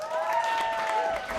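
Audience applause at a screening of a Batman and Robin trailer, a brief wash of clapping and crowd noise under a sustained tonal sound, fairly loud and close.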